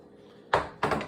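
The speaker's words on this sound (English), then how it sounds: "I got the drawer here" An air fryer drawer is handled in a kitchen, making two quick, close hollow clunks about a quarter second apart against quiet room tone.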